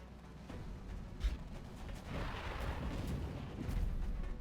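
Alloy cannon fire in the strategy game XCOM: Enemy Within Long War mod, a sharp blast followed by rumbling, explosive battlefield noise at a low, muffled level.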